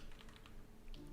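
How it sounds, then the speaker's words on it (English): Rapid keystrokes on a computer keyboard, a close, quick patter of light clicks and taps lasting about a second, with no speech over it. "Type that out."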